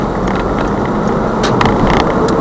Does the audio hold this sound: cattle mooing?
no